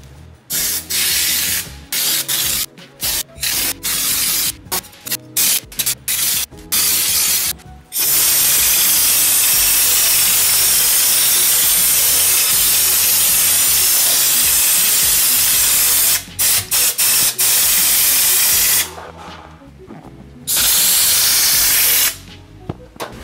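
Spray gun hissing rust-proof coating onto the underside of a camper bus around the leaf springs, loud close bursts broken by short pauses, then one long continuous blast.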